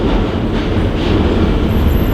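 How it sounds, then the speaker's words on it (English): A New York train rolls past, a loud, steady roar of wheels and carriages filling the whole moment with no talk over it. "it wouldn't be New York without a train"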